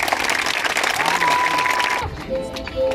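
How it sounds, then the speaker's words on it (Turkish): Applause from students at a university protest in Çankırı, a dense clatter of many hands with a voice briefly rising over it before it cuts off, leaving quieter room sound and speech. "susturmaya çalışan herkes için bir kez daha alkışlıyorum."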